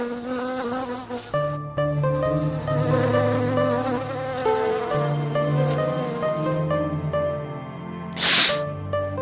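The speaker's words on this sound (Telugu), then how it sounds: "అమ్మా తేనెటీగ ఇక్కడ ఉందమ్మా." Honeybees buzz in a dense, steady drone that runs through the whole stretch without a break, with a short noisy burst near the end.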